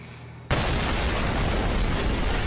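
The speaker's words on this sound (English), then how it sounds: "dude, that's an explosion" An explosion plays back in replayed footage near a big metal crate: a short quiet lead-in breaks into a sudden loud blast that keeps going as a sustained, heavy, broadband roar.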